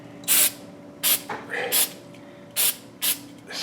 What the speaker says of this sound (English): spray this.